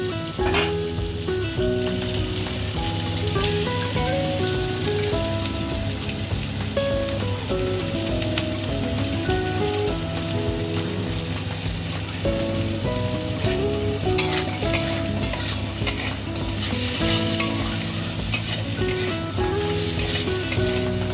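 Onions fry in mustard oil in a pan and are stirred, producing a constant close sizzle with scraping and clattering from stirring mixed in, steady for the whole stretch.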